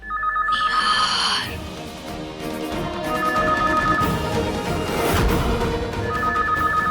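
A telephone rings with a repeated electronic trill, loud and close, over a busy background of music and room noise.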